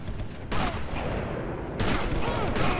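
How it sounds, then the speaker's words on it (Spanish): Gunfire in the video game Sniper Elite: two dense bursts of shots, the second starting partway through, loud and close, with occasional faint talk. "Vamos a liarnos como siempre a tiros."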